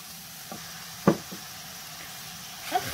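Carrots being stirred with softened onions in a frying pan, a quiet utensil knock against the pan standing out among a few softer scrapes over a low background.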